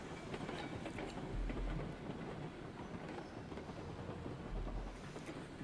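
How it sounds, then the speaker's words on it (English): Steam train in the RailRoads Online video game rolling steadily along the track, a continuous low rumble with faint rhythmic clatter and no talking. "See if we can go faster than the old train's rolling out."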